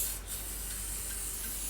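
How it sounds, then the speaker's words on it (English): Olive oil sprayed from a mister over the top of a ciabatta loaf gives a steady, soft, close hiss that runs unbroken with no talk. "So what I'm going to do is just spray some olive oil on the top like that."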